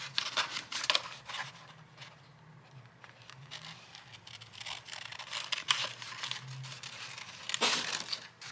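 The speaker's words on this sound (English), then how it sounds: "I need the smaller scissors." Scissors snipping and crinkling paper while cutting out a page for a Little Golden Book journal, with soft close crisp cuts and rustles in an uneven rhythm, no talking.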